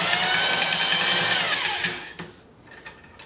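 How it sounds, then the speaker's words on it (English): Stones of a rigid-body Sunnen portable hone grind inside a Quincy compressor cylinder, a loud continuous abrasive whirring that fades and cuts off partway through, followed by a few light knocks and scrapes. "You can start to feel and hear how the hone's working"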